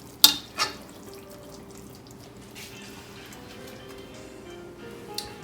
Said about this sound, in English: So I just let those flavors simmer together.